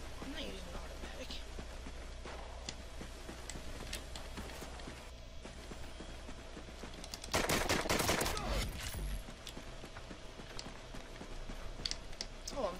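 Gunfire in a live-commentated shooter game, a semi-automatic weapon firing off shots against an opponent, with a loud burst of sharp reports midway over busy game sounds and talking.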